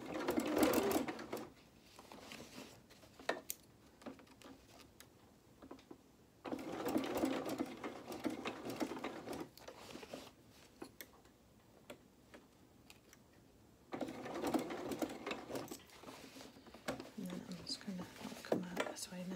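A domestic sewing machine stitches a shirt cuff while shortening a cuffed sleeve, running in three bursts with rapid ticking between them, close and moderately loud, interspersed with faint clicks as the fabric is adjusted.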